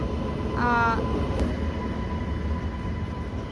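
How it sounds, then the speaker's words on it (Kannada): Kuvempu Express 16221, a train of ICF general coaches on the Shivamogga–Hassan–Mysuru route, rumbles into a station platform with a steady low roar and a brief high tonal squeal early on. "ನೋಡಿ ಬಂದೇ ಬಿಡ್ತು ನಮ್ಮ ಟ್ರೈನು 16221 ಕುವೆಂಪು ಎಕ್ಸ್ಪ್ರೆಸ್"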